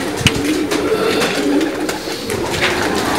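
Pigeons coo in repeated soft throaty calls, close by and continuous, with no talk over them; the birds are kept for pigeon racing and flying.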